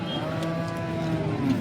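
A cow lowing at the Sangola cattle market, one long, sustained moo with a steady droning tone, close and fairly loud against a low murmur of market noise.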